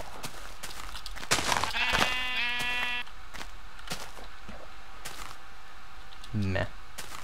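A Minecraft sheep gives one clear, wavering bleat lasting about a second, close and fairly loud, among sharp keyboard and mouse clicks, with a brief voice near the end.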